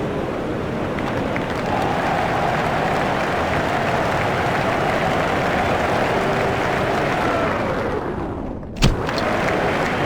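A huge stadium crowd applauds and murmurs in the Cricket 07 video game, a steady wash of clapping and crowd noise with a sustained tone through the middle and a single thump near the end.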